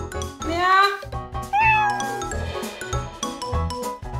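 A dog-like cat that lives alongside dogs gives two clear, rising meows up close, followed by quieter tinkling and soft sounds in the background.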